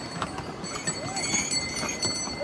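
Horse hooves clip-clop along the Yamunotri pilgrimage trail, a few irregular light knocks close by amid outdoor ambience and nearby voices.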